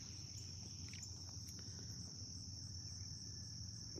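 Continuous high-pitched chirring of locusts outdoors in Georgia, steady and loud, with faint distant sounds underneath.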